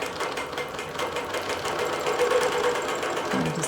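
Computerized quilting machine stitching through a quilt, a steady close mechanical whir with fast rhythmic needle pulses running throughout without talk.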